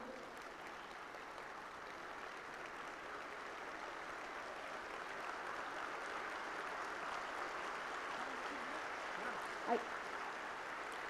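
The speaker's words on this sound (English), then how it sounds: "So let's stand and applaud our guest of honor today." An auditorium audience at a G20 seminar on financial literacy gives a guest of honor a standing ovation, with soft, distant, steady applause throughout and one brief knock near the end.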